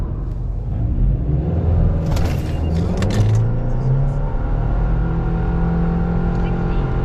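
A 1.8 turbo Subaru Forester SK5 accelerating in CVT mode, a steady droning engine note that climbs gradually and holds at high revs, heard from inside the car under a voice.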